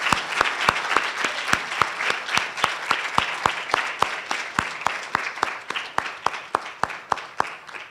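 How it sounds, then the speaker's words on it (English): Sustained audience applause at a university occupational therapy graduation ceremony, dense crowd clapping with one loud, close clapper keeping a quick regular beat throughout, slowly tapering toward the end. "another huge round of applause for so many distinctions"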